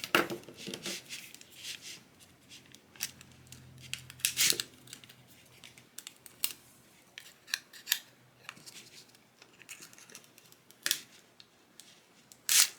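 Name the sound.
cutting with scissors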